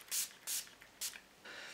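Three short hissing sprays from a pump mist bottle of vitamin B6-infused complexion prep spray, close and crisp, followed by a longer spritz and a faint rustle.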